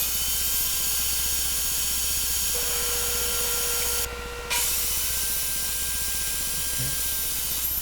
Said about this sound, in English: just using my table saw sled to cut it to the proper length of